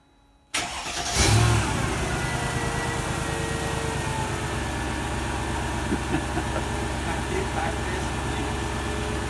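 A Mercedes ML55 AMG (W163) with its secondary catalytic converters deleted and exhaust leaks cranks and fires up after a moment of silence, with a loud burst at startup before settling into a steady, throaty idle.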